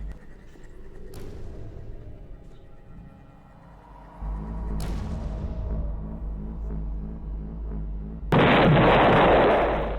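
An explosion in the video game Aperture Desk Job, a sudden loud burst of broadband noise near the end, preceded by a couple of sharp cracks and a low rumbling hum.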